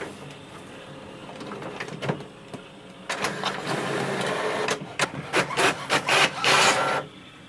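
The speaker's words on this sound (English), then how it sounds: "just select the settings and then click on the copy button." An HP OfficeJet Pro 9022 printer copies a document, with a low mechanical hum giving way to busy whirring, clicking and sliding feed noises that grow louder and more rhythmic before stopping abruptly near the end.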